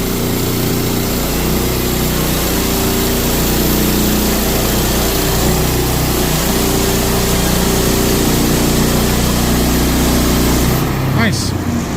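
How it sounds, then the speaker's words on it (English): A saw cutting up a log with a loud, continuous engine-driven drone that holds steady throughout before cutting out near the end. "That's how you cut up a log."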